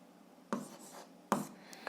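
Pen strokes on paper during an algebra exercise, two short scratchy bursts of writing close to the microphone in a quiet room, with no talk over them.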